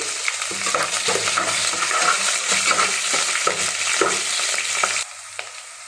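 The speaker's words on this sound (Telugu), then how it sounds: "ఆనియన్స్ వేస్తున్నా పచ్చిమిరపకాయలు కొంచెం బాగా వేగాలండి" Onions, green chilies and bay leaves frying in a pan for egg and chicken biryani, a loud continuous sizzle with regular stirring scrapes that drops off sharply near the end.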